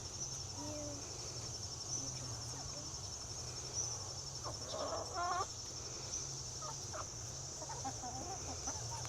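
Backyard homestead chickens cluck in short scattered bursts, with one brief louder run of clucks midway, over a steady high whine of insects and a low outdoor hum.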